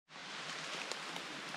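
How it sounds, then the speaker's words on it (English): Heavy rain starts to fall on a forest hiking trail and sets in suddenly as a steady, dense hiss of drops, with faint individual patters and no talking. "Rain's starting to come in pretty heavy now."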